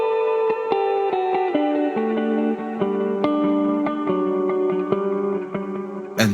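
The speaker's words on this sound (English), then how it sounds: "you'll hear more reverb than delay." Electric guitar played through an effects pedalboard rings out in a sequence of picked notes, each washed in more reverb than delay so the tones blur and sustain into one another, with a brief louder strum at the end.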